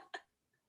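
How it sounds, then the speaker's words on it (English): Two short, dry coughs from a person just back from a run, close to the microphone, with a brief silence between them. "sorry for the coughing"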